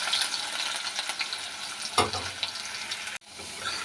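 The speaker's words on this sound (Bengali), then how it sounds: "আলুটা আগে লাল লাল করে ভেজে নিই" Cut potatoes fry in a pan with cumin, a close, constant sizzle broken by a scraping stir partway through and a brief dropout before the hiss resumes.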